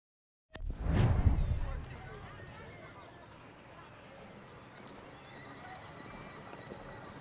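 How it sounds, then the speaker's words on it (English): A horse in Assassin's Creed 3 answers a whistle with a loud, close whinny after a sharp onset, then settles into a quieter continuous bed of game ambience and soft hoof movement. "Horse whistle"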